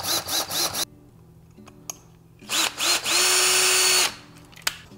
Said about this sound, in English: I'm gonna use a 1/16 inch drill bit to kind of mark that first.